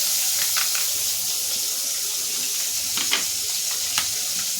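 Pieces of rohu fish sizzling in hot oil in a pan, a constant hissing fry with small pops and light scrapes scattered through, close by and without voices.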